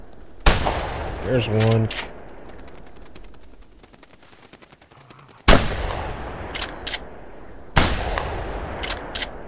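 Gunfire at geese in The Hunter video game: three sharp, loud shots spaced several seconds apart, each trailing into a fading echo, with someone speaking briefly between them.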